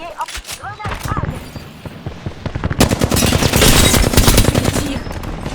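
Rapid gunfire bursts in a video game, dense and loud, rising in intensity toward the end, mixed with game sounds and a voice speaking in French.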